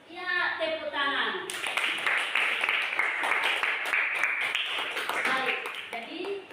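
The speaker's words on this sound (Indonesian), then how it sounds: "Ya, tepuk tangan." Children clapping together in a classroom, a dense burst of applause that starts after a short stretch of speech and runs steadily, with voices heard around it.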